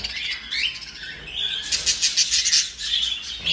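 Crested fresh-breed pet birds in flight cages flap their wings and chirp in repeated bright bursts, with squawks and fluttering close by and no talk over them.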